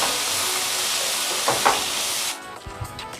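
Tomatoes, coconut and garlic sauté in a hot pan for Hogenakkal fish curry, giving a steady close sizzling hiss that cuts off abruptly, leaving a few faint clinks.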